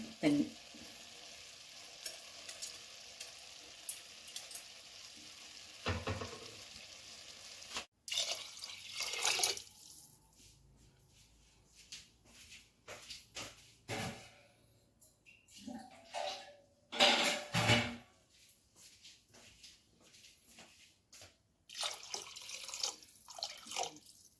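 Water is poured into rice in a pot and stirred, giving splashes, drips and scraping stirs in irregular bursts with quiet stretches in between, heard close up in a kitchen.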